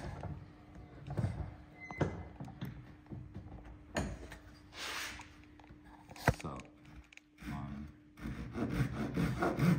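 A Japanese crosscut saw cuts a tenon shoulder in wood with short, uneven rasping strokes heard up close, broken by pauses and handling noises.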